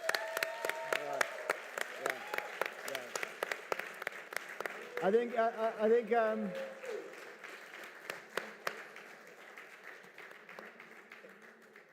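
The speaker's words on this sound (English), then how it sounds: "I think a big standing round of applause for this man" Conference audience at a Cosmos blockchain event in Dubai breaks into a round of applause, scattered claps rising then fading while a speaker's voice and amplified tones carry over the top.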